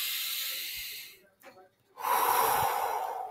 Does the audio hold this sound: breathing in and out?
yes